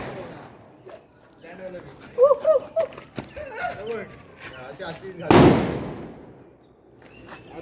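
A single loud Diwali firecracker bang bursts out after some nearby chatter, its sharp crack fading into a brief rumbling tail as voices carry on faintly.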